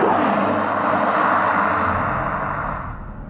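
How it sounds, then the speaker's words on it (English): A Bentley Flying Spur Mulliner Hybrid drives on an open road, its engine a broad, raspy rush of noise that holds steady and then fades away over a few seconds, with no talk. "actually it's got a bit of a rasp to it, that engine."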